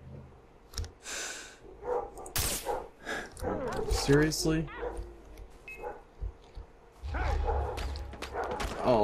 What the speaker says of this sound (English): All the dogs are just barking.